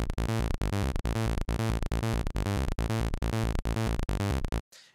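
A synth bass sequence whose step gate makes the notes vary in length, pulsing in a steady, loud rhythm of about ten sharply chopped hits before a brief quiet tail.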